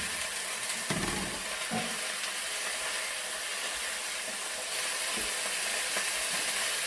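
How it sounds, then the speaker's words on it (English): Minced garlic, carrots and broccoli sautéing in a hot pan for chicken lo mein: a loud, steady, close sizzle with a few soft stirring knocks, no talking. "we just need to saute for 4 to 5 minutes"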